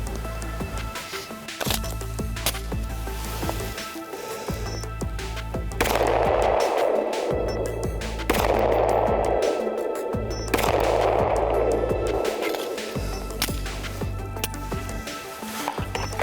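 Rapid 9mm gunshots from a stock Glock 34 pistol with aftermarket sights, fired in quick strings of loud overlapping cracks during a hollow point ammunition test, with no speech.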